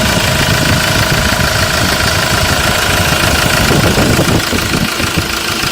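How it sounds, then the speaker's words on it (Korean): The engine of a used car idles steadily, close up, with a continuous mechanical hum and a faint knocking rhythm, without talk. "엔진 사운드 매우 아주 좋죠."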